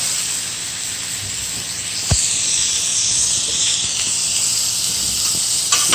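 Hash browns and onions sizzle on a Blackstone griddle, a steady close hiss and crackle throughout, with a few brief scraping clicks of a spatula.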